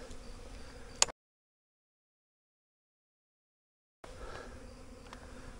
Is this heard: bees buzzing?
yes